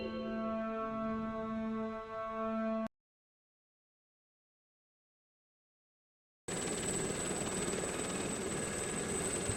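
A helicopter landing in the Chernobyl VR video game gives a steady rotor and engine drone, followed by a few seconds of silence and then a broader, noisier engine rumble.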